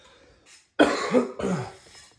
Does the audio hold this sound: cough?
yes